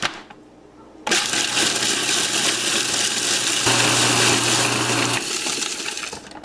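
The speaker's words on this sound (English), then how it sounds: "we're going to give them a spin around in the processor so it chops them up real fine" A food processor spinning graham crackers into fine crumbs, starting with a rattle, then a loud steady whir with clattering bits, rising midway and winding down near the end.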